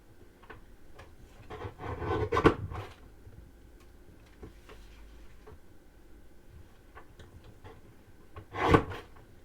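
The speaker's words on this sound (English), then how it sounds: "I'm just going to trim away all those little border things" Paper border strips being trimmed for a writing pad folio, giving soft rubbing and rasping with scattered small ticks and two louder bursts of cutting or handling, close by and with no talk.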